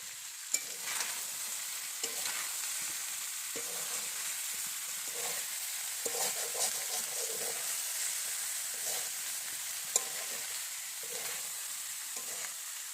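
Cauliflower chicken kosha frying in a pan gives off a low, steady sizzle, broken by repeated scraping and clinking as a spatula stirs it every second or so, with no talking.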